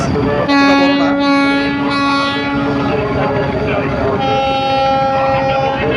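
Passenger launch MV Zakir Samrat 4 departing on a river voyage from the annual Chormonai gathering, a loud, long, steady horn blast followed by a second sustained blast, heard close over crowd and engine rumble.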